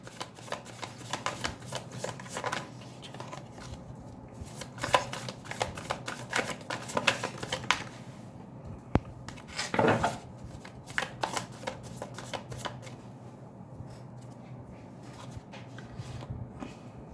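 A deck of tarot cards is shuffled by hand, giving quick riffling bursts and soft flicks that come in irregular clusters. It sounds close and fairly quiet, with short pauses between bouts and no talking.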